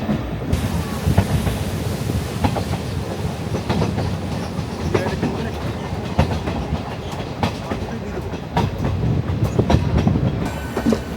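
The Kanchanjangha Express on the Silchar line rolls along the rails, a loud, continuous rumble with rhythmic clickety-clack of wheels over joints, heard from close by throughout.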